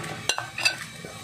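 Crushed ginger, green chilli, curry leaves and shallots drop into a pan of dried prawn curry base, giving a few quick clattering scrapes and a light sizzle, close and brief, with no talk.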